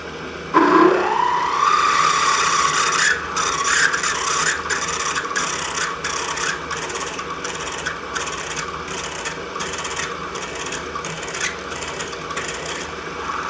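Peck drilling holes into 4140 steel for a custom Harley triple clamp, a steady grinding whine from the drill with repeated short breaks as the bit is lifted and plunged again, close and continuous.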